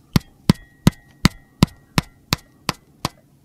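Inside MSA Sordin headphones, nine sharp clicking knocks come at an even pace with a faint springy ring after each, close and dry with no voice.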